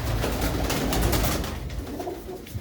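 Pigeons coo in rows of rooftop coops, the soft throaty calls overlapping from several birds amid rustling and wing flutters, fairly close and continuous.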